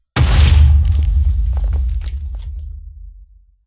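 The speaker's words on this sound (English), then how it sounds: "We gotta see the explosion" TNT blowing up in the Minecraft video game, a single loud, deep boom that starts abruptly and rolls on as a long rumble with scattered debris crackle, fading out over about three seconds.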